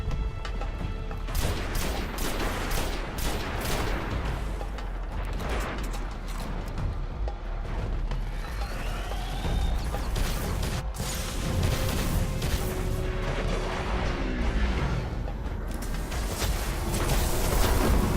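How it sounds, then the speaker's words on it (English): Devil Tank being destroyed in the video game Destiny, a sustained dense barrage of blasts, crashes and gunfire at steady loudness, swelling slightly toward the end with no talk over it. "that is the Devil Tank dying"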